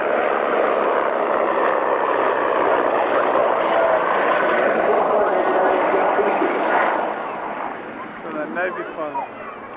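A helicopter engine drones loudly and steadily at an airshow at Cranfield, 1998, then fades somewhat toward the end, with a fluttering rotor texture emerging as it passes overhead.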